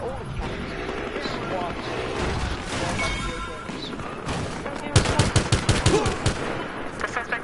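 Rapid automatic gunfire crackles in a police shooter video game, with bursts of closely spaced shots hammering loudly near the end over a busy mix of game noise and a talking voice.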